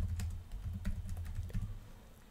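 Quick, light keystrokes on a computer keyboard while entering code, an uneven patter of clicks close to the microphone that tapers off toward the end.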